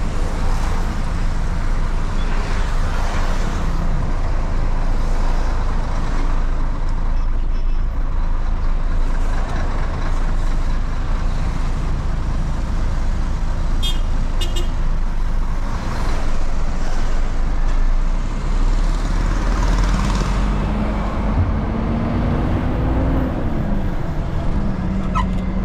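Loud, constant roadway noise of trucks and cars on the wet Puerto zigzag road at midday, a heavy diesel rumble filling the whole stretch with passing vehicles, brief high tones and a rising engine whine near the end.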